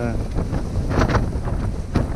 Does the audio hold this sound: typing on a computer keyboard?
no